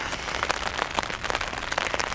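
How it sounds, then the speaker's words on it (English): Light rain falling in the backcountry, a soft continuous patter of scattered drops tapping nearby surfaces, steady and fairly quiet with no voices. "It's raining this morning, light rain."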